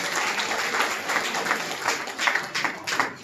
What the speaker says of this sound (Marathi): त्यांच्यासाठी आपण जोरदार टाळ्या वाजवून त्यांचं अभिनंदन करू